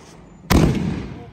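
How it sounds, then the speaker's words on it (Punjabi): A single big firecracker bomb goes off with a sudden sharp, loud bang that booms and then decays over about a second during a festive celebration. "ਐਡਾ ਵੱਡਾ ਬੰਬ ਲਿਆਂਦਾ ਦੂਰ ਬੜੇ ਪਟਾਕੇ ਖਿਲਾਰਦਾ"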